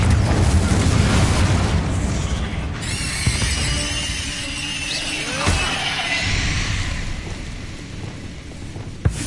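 Confringo blasting spell explosions in Hogwarts Legacy, set in a tomb, with a continuous rumbling roar and several sharp bursts and crackles spread over the clip.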